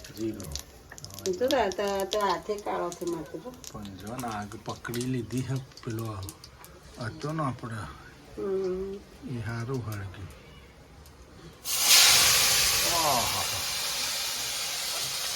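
A voice talks for a while, then a loud, sudden sizzle of mustard and cumin seeds hitting hot oil bursts in and keeps hissing steadily.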